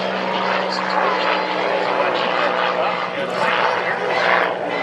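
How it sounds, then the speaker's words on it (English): A T-34 propeller trainer, a derivative of the Beechcraft Bonanza, flying at an airshow, its engine drone loud and continuous under a commentator's voice over the public address. "T-34, of course, a derivative of the ever popular Beechcraft Bonanza, one that is still in production."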